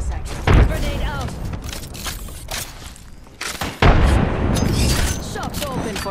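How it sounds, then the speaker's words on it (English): In the video game Apex Legends, a heavy frag grenade blast thumps in loudly partway through, amid continuous gunfire and game effects, with a voice speaking over the action. "Frag out. Give me a sec. Grenade out."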